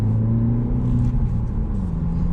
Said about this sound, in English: The exhaust sounds pretty good.